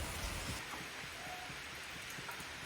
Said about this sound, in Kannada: ಮಳೆ ಬರ್ತಾ ಉಂಟು